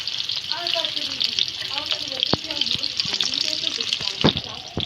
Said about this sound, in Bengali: দেখো, পেঁয়াজগুলো লাল লাল করে ভেজে নিলাম।